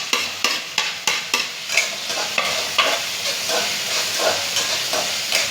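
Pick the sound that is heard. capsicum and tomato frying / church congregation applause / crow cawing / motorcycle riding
capsicum and tomato frying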